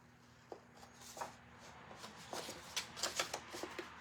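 Scissors snip through a fabric tag on a handmade fabric crow, a series of small, close, crisp cuts with quiet rustling between them.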